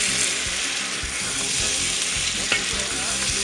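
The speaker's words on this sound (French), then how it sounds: "Pareil, bien mélanger les tomates." Tomatoes being stirred as they fry in a pan, giving a continuous hiss of sizzling with scraping and clicking from the utensil, close and steady throughout.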